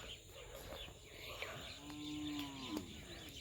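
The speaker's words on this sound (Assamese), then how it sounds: "আমাৰ গৰু দুটা আপোনালোকক দেখাওঁ এই দুটা আমাৰ গৰু" A cow in an open field lets out a long, low moo partway through, nearby, over faint outdoor background with scattered light clicks.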